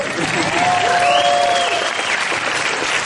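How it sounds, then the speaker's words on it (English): A large crowd at a Disney fan event applauds loudly and continuously throughout, with a few cheers rising above the clapping. "pause for applause"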